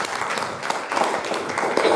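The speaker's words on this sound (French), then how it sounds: "On vous applaudit, Jonathan Mongoyer." An audience at a local live broadcast event in Nersac gives a short burst of clapping, fairly steady for about two seconds, with faint voices mixed in.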